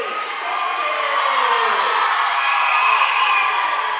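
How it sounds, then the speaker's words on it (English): Crowd at a high school girls' basketball game between East Carter and West Carter cheering and whooping as it rises to its feet, a loud, sustained roar filling the gym throughout. "It's tougher to hear the Lady comments as the crowd comes to their feet."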